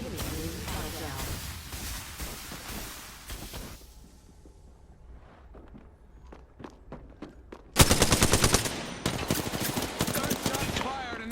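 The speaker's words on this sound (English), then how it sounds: "Shots fired and they're hitting me." Automatic weapon fire rattles in long rapid bursts in a solo Apex Legends match, with dense close volleys that drop away to scattered single shots and then return in a loud sustained barrage.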